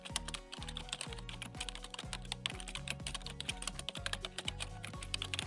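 Close, quiet tapping on a computer keyboard, with many rapid keystrokes at an uneven rhythm that run steadily for several seconds and no speech.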